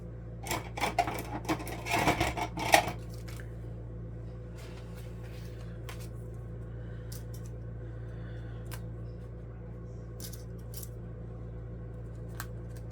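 A Sizzix Big Shot foldaway die-cutting machine cuts paper, giving a brief burst of clicking, crunching mechanical sounds early on that is followed by quieter scattered ticks and a low steady hum.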